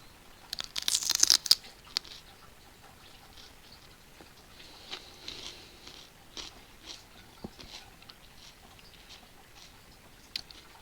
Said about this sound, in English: Enjoying the sounds of chewing food.